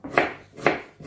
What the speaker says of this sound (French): On prend un oignon, on coupe